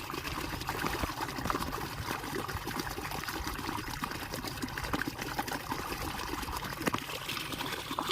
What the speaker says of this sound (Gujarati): આપણે પાણી વાળી દઈએ હવે સારું છે મારું પાણી